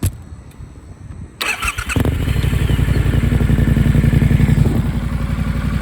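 A 2019 Triumph Scrambler 1200 XE motorcycle cranks briefly with a clattering starter, then catches and settles into a loud, steady close idle.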